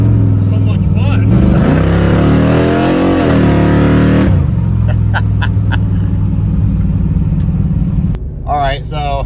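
A car engine revs hard, then settles into a rough, choppy idle that chops and stumbles steadily. It sits close and loud, with a voice speaking briefly near the end.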